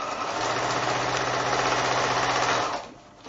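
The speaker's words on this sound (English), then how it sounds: "So just with my 1/4 inch seam allowance, I'm just going to sew these together" A sewing machine stitches pieced quilt fabric with a 1/4 inch seam at close range, a steady continuous mechanical whir, stopping abruptly near the end.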